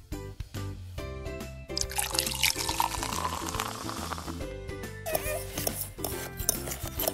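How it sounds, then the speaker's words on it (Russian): Liquid cake mixture is poured onto cookies for a homemade cake, making a sustained, gentle splashing pour that lasts several seconds over a faint steady background tone. "Выливаем в печенье."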